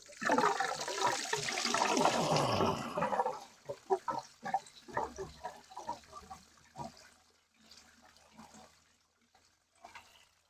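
Water gushes out of a 1955 Ford 650 tractor engine in a rushing pour that tapers into intermittent gurgles and drips, close by and fairly quiet.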